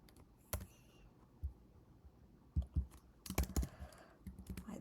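Typing on a computer keyboard: scattered, faint key clicks, single taps at first, then a quicker burst of several keystrokes near the end, in a quiet room.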